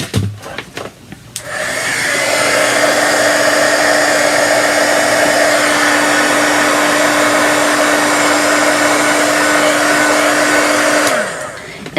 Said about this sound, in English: I'm going to heat set that so I don't smear it.